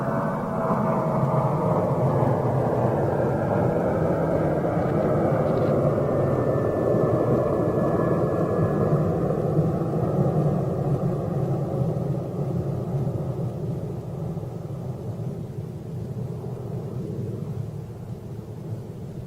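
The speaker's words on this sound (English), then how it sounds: "Long flat departures in the 738." A Boeing 737-800 jet on a long flat departure gives a steady, broad roar and rumble heard from a distance, sustained for the whole stretch and slowly fading toward the end, with no talk.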